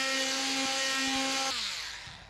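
A power sander whirs steadily with a humming tone as it works surfboard foam, then switches off and winds down.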